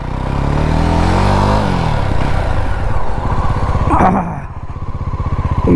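A 2022 Jawa 42 2.1 motorcycle engine runs loud and close, its revs dropping from a higher pitch to a steady, throbbing idle with a rapid, even thump.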